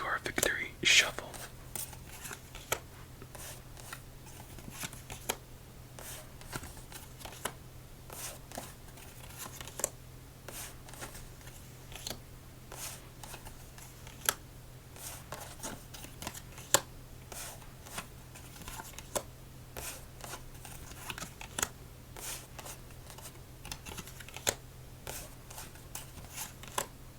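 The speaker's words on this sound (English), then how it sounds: "Let's stack them up and get on to our victory shuffle." A Stargazer 202 deck of playing cards is shuffled and stacked by hand for solitaire, with soft riffling, snapping and tapping bursts repeating close to the microphone amid quiet whispering.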